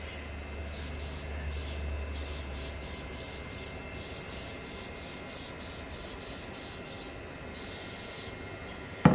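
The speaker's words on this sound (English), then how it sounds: "give that a spray. Use butter or spray oil." A rapid series of short hissing sprays of cooking oil onto a pan, evenly spaced and close, repeating over a low background hum.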